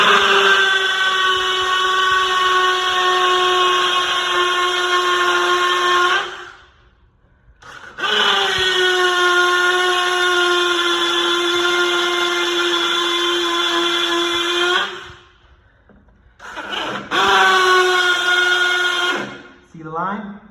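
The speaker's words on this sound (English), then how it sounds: "Now we're going roto hammer." A rotary hammer drills through laminate flooring into concrete in three loud, whining bursts, each several seconds long and separated by brief pauses, close and dominant.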